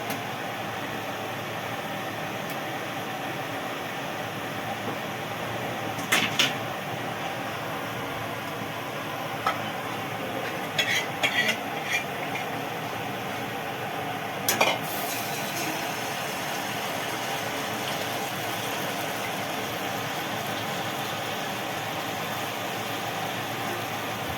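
Malpua batter fries in hot oil in a pan, giving a steady, even sizzle throughout, broken by a few brief clinks of a utensil against the pan.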